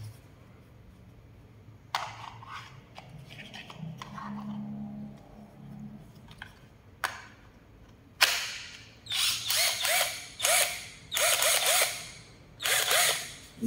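A cordless grinder whirs in repeated loud bursts, starting and stopping several times, with quieter mechanical clicks and handling noise between runs.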